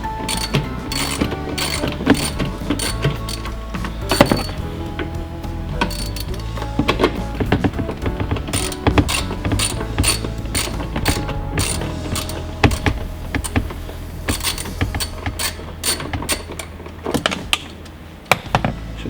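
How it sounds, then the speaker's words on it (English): Ratchet with a 10mm socket working a small bolt loose on a Jeep Wrangler JL panel, giving rapid, close clicking in repeated bursts with short pauses, mixed with light metallic handling noises and no talk. "we're going to take a 10mm socket, remove this little bolt up here"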